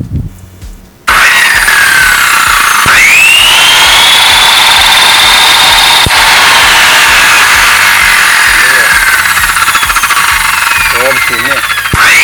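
An Orion circular saw spins up after a short pause and runs at full speed with a loud, steady high whine. The pitch rises as it accelerates, and faint brief voices come near the end.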